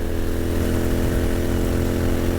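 Royal Enfield Continental GT motorcycle engine climbing an incline at around 75 mph, a loud, steady low-pitched drone with a constant rumble and wind roar throughout.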